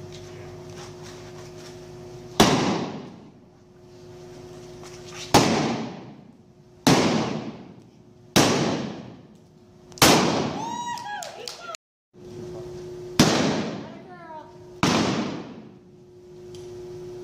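Shots are fired from horseback at a western riding event, about eight sharp, loud cracks spaced every one to two seconds. A low hum and brief voices sit between the reports.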